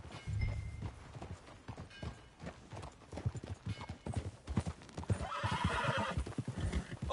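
A horse in Red Dead Redemption 2 whinnies over steady clopping hooves, with a rush of rolling, windy noise building toward the end.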